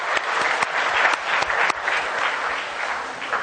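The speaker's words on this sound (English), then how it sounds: "So, round of applause." A quiz competition audience applauds at the end of a round, steady dense clapping from a moderate-sized crowd, fairly close and sustained without talking.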